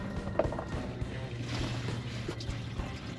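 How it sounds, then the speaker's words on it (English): Fuel pours and splashes from the tank of a Dodge Power Wagon into a drain pan, a steady liquid gush with a few small splashy bursts, fairly close and continuous throughout. "I don't think my drain pan's even close to big enough for how much fuel is coming out of there"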